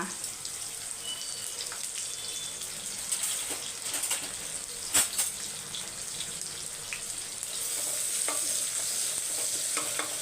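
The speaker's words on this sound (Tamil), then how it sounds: "வெங்காயம் வந்து இந்த அளவுக்கு வதங்கினா போதும்" Sliced onions and garlic sauté in a pan with a steady, faint sizzle and occasional stirring scrapes, plus a brief louder clink midway; no one speaks.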